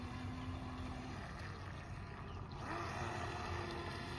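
Electric boat cruising through a figure-eight on open water, a faint steady motor hum under wind and water noise with no talking.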